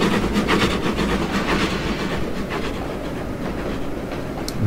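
A GWR class 32XX Barnum steam locomotive coming to a halt in the Trainz simulator, its loud clickety-clack rail rhythm close by and slowly easing, the rumble fading toward a quieter close.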